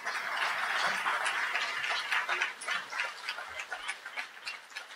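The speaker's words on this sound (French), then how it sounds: "Une bonne main d'applaudissements" Applause from an audience at a school event welcoming a director of studies, a dense, steady clatter of clapping close by for about five seconds, thinning toward the end.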